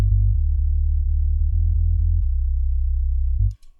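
A sub bass preset on the Sytrus synth plugin in FL Studio plays a deep, pure, sine-like low note that steps between a few pitches in steady sustained tones, then cuts off near the end with a faint click.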